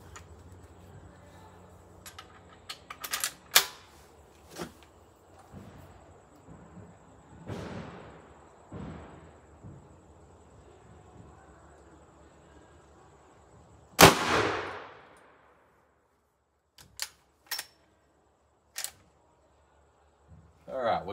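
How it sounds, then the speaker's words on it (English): A single sharp rifle shot from a Rossi R92 lever-action in .44 Magnum firing a 300-grain Hornady XTP cracks loudly near the middle, surrounded by quiet stretches, faint clicks and handling noises. "So 300 grain Rossi R92, shot number three"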